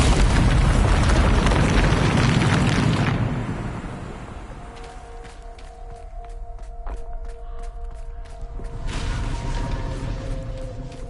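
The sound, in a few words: explosion from the Bombarda spell in a video game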